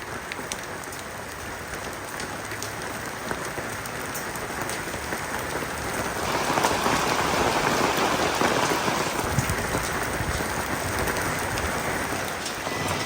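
Pea-sized hail strikes an awning in a dense crackling patter, like popcorn popping, steady and close, growing heavier midway before easing slightly.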